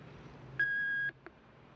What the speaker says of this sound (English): However, if you'd like to leave one, wait for the beep.